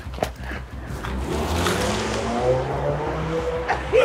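A car pulls away and drives off, its engine rumbling low and steady near the listener with a faint tire sound, no one talking over it.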